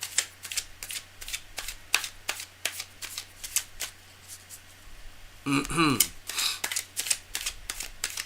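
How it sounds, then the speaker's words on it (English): Tarot cards are shuffled by hand in a sequence of crisp, rapid riffles and snaps, some separate and one denser burst midway, heard close and alone. "All right, cards are well shuffled."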